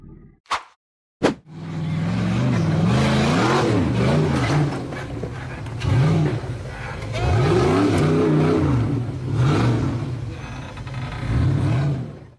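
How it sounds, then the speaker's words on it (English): A dark-colored off-road buggy with a white roof revs hard while climbing a rugged, rocky forest hillside, its engine roaring loud and close with rising and falling pitch sweeps over a sustained growl, after a couple of sharp knocks. "The dark-colored buggy with a white roof revved hard as it climbed a rugged, rocky hillside through the forest."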